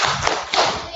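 A group performing the rhythmic tepuk sukses clapping routine during a classroom icebreaker, a short burst of sharp, patterned hand claps with a couple of accented beats and no talk.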